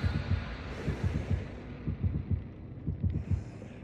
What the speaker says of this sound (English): Why do I hear my heartbeat 2 times?